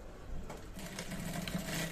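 A sewing machine stitches a cuff onto a shirt sleeve, a close, quiet, steady mechanical whirr with a rapid rhythmic needle patter running for a couple of seconds.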